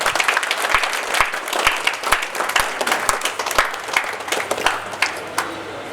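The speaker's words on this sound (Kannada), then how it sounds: "ಮತ್ತೊಂದ್ಸಲ ಜೋರಾಗಿ ಚಪ್ಪಾಳೆ ತಮ್ಮೆಲ್ಲರ ಕಡೆಯಿಂದ." Loud applause from an audience at a dialysis centre event as trust members stand together, steady dense clapping with sharp individual claps throughout, no speech over it.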